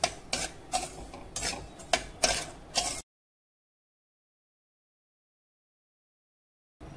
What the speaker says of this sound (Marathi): तूप घालूया 2 चमचे आणि मस्त मंद आचेवरती भाजून घेऊयात